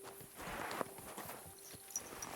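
Horse hooves clip-clop in Kingdom Come: Deliverance II, faint and fairly quiet, with a loose walking rhythm of separate thuds and a couple of sharper knocks over soft background ambience.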